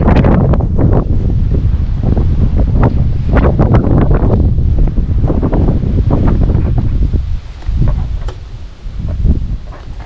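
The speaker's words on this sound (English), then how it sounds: "Apologize for the wind." Strong wind buffets the microphone continuously while bass fishing on the water, a loud roaring rush with gusty bursts that eases slightly toward the end, water faintly beneath.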